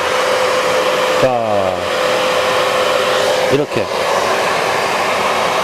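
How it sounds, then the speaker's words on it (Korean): A 1600W wet-dry vacuum cleaner sucks through a cyclone dust collector with a loud, steady roar and a constant whine, broken by brief sucking gulps as debris is drawn in, while someone speaks briefly over it. "내가 가진 청소기를 작동을 시키면"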